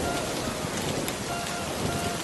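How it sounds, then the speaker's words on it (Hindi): Heavy rain pours without pause, a dense, even hiss of drops striking surfaces close by, with no lulls or voices. "ये बारिश तो रुकने का नाम ही नहीं ले रही है"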